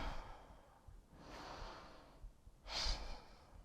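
Deep, slow breaths drawn and released during a home yoga session, a soft airy inhale swelling to a stronger exhale near the end, close and fairly quiet with no talking.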